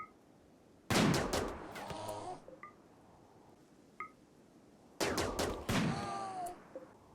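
Two loud, close volleys of gunfire from bullets and lasers bring down cougars in Rimworld, each a cluster of sharp cracks with laser zaps and brief beeps between them, and no talking.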